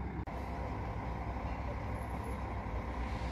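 Guanabara G8 coach bus on the Goiânia to São Paulo line, its engine giving a steady, loud low rumble with a short air-brake hiss near the start and no voices over it.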